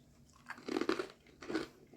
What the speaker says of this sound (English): I'm sure you can hear him crunching.